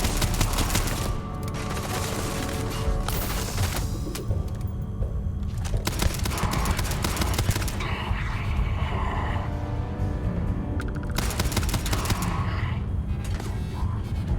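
Sustained gunfire in the space game Starfield, rapid cracking shots in dense bursts over a busy combat mix, loud and close throughout with brief dips between volleys.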